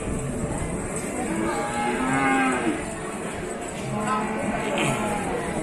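A Limousin bull lows at the Pasar Wage Bumiayu cattle market, with drawn-out moos rising over a busy livestock-market background while people talk nearby.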